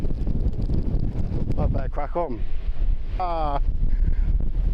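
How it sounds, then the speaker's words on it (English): Gusty wind rushes past in the Cairngorms near Loch Morlich in Scotland, a steady low rumble of buffeting under a man's brief speech, with a faint bird call rising near the middle. "It is windy."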